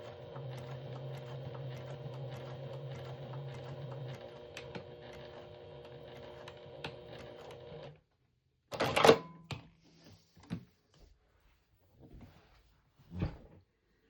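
A sewing machine runs a top stitch at 3.5 millimeter stitch length with a steady mechanical whirring hum for several seconds, then stops, followed by quiet scattered handling clicks and knocks.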